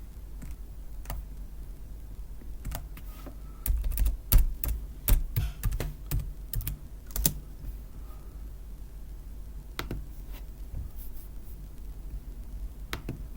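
Someone types a password on a computer keyboard with quick, irregular key clicks, including a denser burst of firmer taps partway through, close and fairly quiet with no talking.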